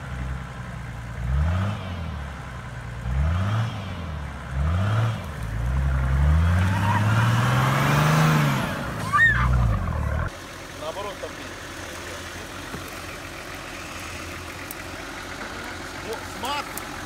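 A Nissan Patrol off-road SUV engine revs up and down in several repeated surges, then holds a strained high rev before cutting off abruptly, leaving quiet background noise.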